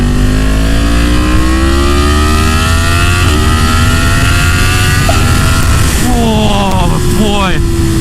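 A Yamaha MT-10 1000cc motorcycle accelerates hard after a downshift, its loud engine note climbing steadily with a brief dip and renewed rising revs near the end, close up under constant wind rush.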